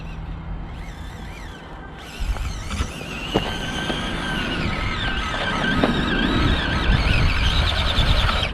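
A 1/18 scale FMS Atlas 6x6 mini RC crawler drives over loose ground, its small electric motor whining steadily with gear squeal and scattered clicks and scrapes of wheels on dirt, continuous and fairly close.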